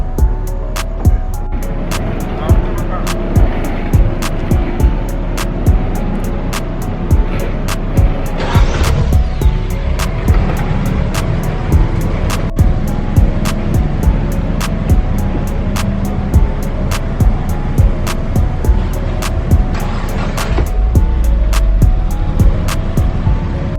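A Nissan 370Z with a loud aftermarket exhaust drones and rumbles steadily from inside the car while driving. Sharp repeated ticks run through it.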